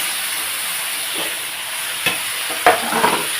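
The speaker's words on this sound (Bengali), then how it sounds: "এই তেলের মধ্যে এখন আমি কি করব এই লাউটাকে ছেড়ে দেবো" Chopped bottle gourd drops into leftover hot oil in a pan and fries with a steady sizzling hiss. A few sharp clinks and scrapes of stirring break in near the end, and no one speaks.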